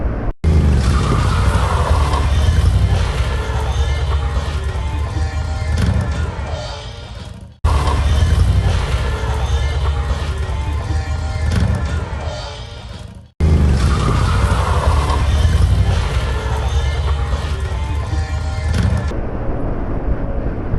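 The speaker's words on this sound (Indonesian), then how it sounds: "kalau nggak pakai ABS itu ban ngesot, terlicin segala macam, tergelincir" Car tires skidding and squealing under hard braking without ABS, three long separate episodes of harsh tire screech with engine and road noise, loud and close.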